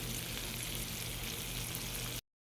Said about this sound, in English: This is how it's supposed to be frying when the grease is ready.